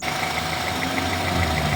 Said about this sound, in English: engine is running here